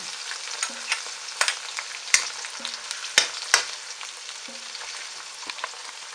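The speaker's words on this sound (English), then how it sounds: "you wanna brown the onions until they're translucent, and sweat the garlic and fish ball" Onions, garlic and fish balls fry in a pan for a home-made pinakbet, giving a steady hiss of sizzling oil broken by sharp clacks and scrapes as the utensil stirs.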